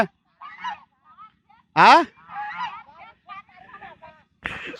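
Domestic geese grazing on river char land honk nearby in short bursts, one loud trumpeting call standing out among softer scattered honks and chatter.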